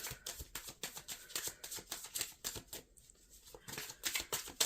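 Tarot cards are shuffled by hand in quick, irregular riffling bursts with a brief pause midway, close and quiet, with no talk.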